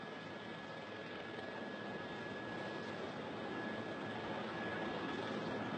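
A jet aircraft landing on an aircraft carrier gives a steady, loud broadband engine roar with a faint high whine, continuous and slowly swelling, no talk.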